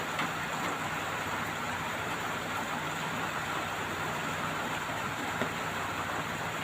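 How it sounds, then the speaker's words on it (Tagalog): Steady rain falling, a dense, even hiss with no breaks that stays constant and fairly loud for the whole stretch. "Ang patak na ulan."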